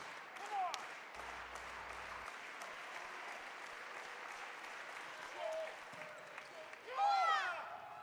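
A gym crowd at a college volleyball match applauds steadily throughout, a broad even wash of clapping heard from within the stands, with a few whistles and cheers rising near the end.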